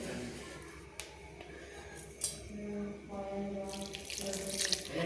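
Tap water runs into a bowl while flour dough is kneaded by hand, a steady close splashing stream with light clinks of utensils, growing brighter and louder toward the end.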